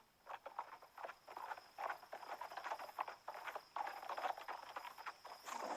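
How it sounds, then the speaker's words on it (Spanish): Horses walk along a quiet trail near the Colombian border, their hooves clopping in a steady irregular rhythm at moderate distance, soft and alone without talk. "Solo se escuchan los cascos de los caballos."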